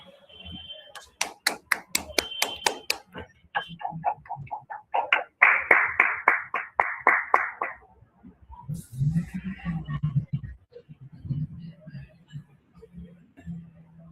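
Scattered clapping comes over a webinar's microphones for a speaker, bursts of individual claps and taps spread across the call, with voices talking in between.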